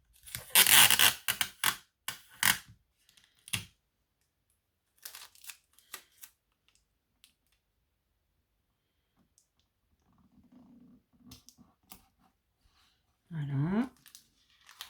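Sticky tape is pulled and torn in quick loud rips while crafting an aquarium card, followed by sparse clicks, soft crinkling and pressing sounds as it is applied.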